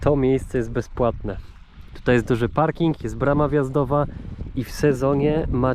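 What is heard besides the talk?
None of the usual background noises is heard.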